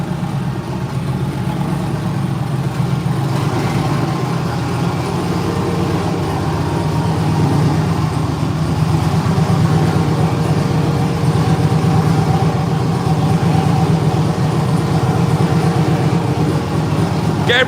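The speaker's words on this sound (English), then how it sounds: "It's a custom exhaust on here." An LS-swapped twin-turbo Nissan 300ZX with a custom exhaust idles steadily, a continuous low, rumbling drone holding an even level throughout, close by, with no talk over it.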